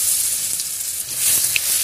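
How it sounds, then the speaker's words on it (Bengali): Garlic fries in hot oil in a wok with a loud, continuous close hiss and faint crackle, a brief tick standing out near the end, no voices. "রসুনটা একটু ভাজা ভাজা করে নিচ্ছি।"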